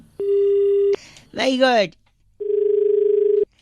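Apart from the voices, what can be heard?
phone tone after call disconnected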